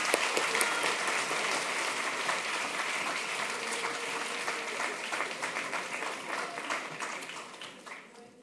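A business school audience at an eloquence competition final gives a speaker a sustained round of dense, even applause that fades slightly toward the end.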